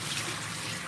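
Water runs steadily from a tap while a coffee filter holder is rinsed out, a brief, even hiss and splash with no talking.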